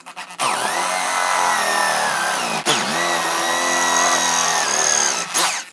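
A power drill bores a hole through wood for a simple wooden stool in a carpentry workshop, a loud steady whine running close with a brief dip midway and another near the end.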